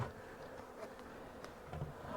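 Honeybees hum steadily at a hive during a mild winter check, a soft, continuous buzz close by with no voices over it.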